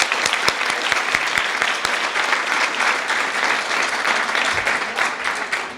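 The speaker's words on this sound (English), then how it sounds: "I would like just to give a round of applause to all of our honorees today" A crowd at the Woof & Whiskers 2016 honoree event applauds, a dense, sustained clapping with a few sharp individual claps standing out near the start, continuing steadily throughout.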